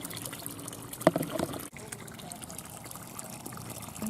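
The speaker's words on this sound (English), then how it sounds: "It's coming up, water's coming up, feeding through there." Pond pump pushing water up through loose pipes for a fish pond, a steady low trickle and dribble running throughout, with a brief louder splash early and a voice speaking nearby.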